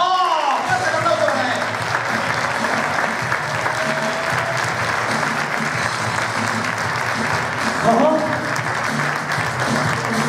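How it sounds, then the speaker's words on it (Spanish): A comedy-show crowd applauds loudly as a comedian is introduced at a cultural centre. The clapping is sustained and dense, with a voice briefly heard over it at the start and again near the end. "por favor, que le den un fuerte aplauso"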